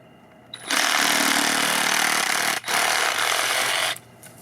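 A power saw slices through PVC pipe in two loud, sustained bursts with a brief pause between them, the whine starting and stopping abruptly close by, no voices.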